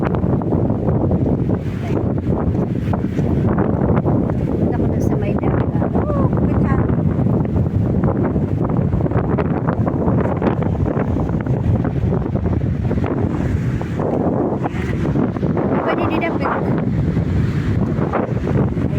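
Steady wind buffets the microphone outdoors on a seaside boulevard, a constant broadband rush with a faint wash of surf and distant voices underneath.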